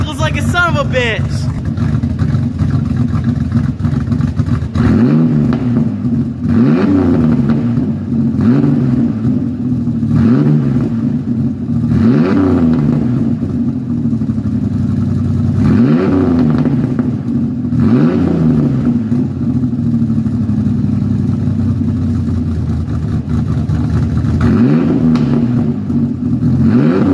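A 3.0L V6 in a 2000 Ford Ranger fitted with a cat-back exhaust, holding a loud, close idle broken by repeated throttle blips that rise and drop back, spaced every few seconds.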